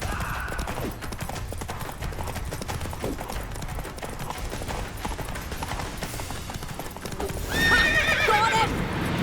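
A horse in The Witcher 3 gallops with steady, loud hoofbeats, then lets out a sharp whinny near the end. Game ambience and effects play in the background.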